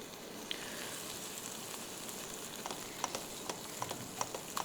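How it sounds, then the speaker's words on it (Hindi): Chana dal being fried in ghee for a halwa, a steady soft sizzle with scattered sharper crackles and stirring ticks, fairly faint and close, with no talking. "इसको अच्छी तरह घी में भूनिए।"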